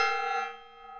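A single gong strike rings out with a bright, metallic tone that holds steady and slowly fades across one second. No other sounds are present.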